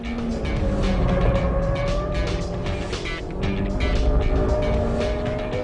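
A Honda Civic EK9 Type R revs hard in third gear to around 6,500 rpm, with a loud, steady, high-pitched engine drone that rises slightly and holds, heard from inside the car.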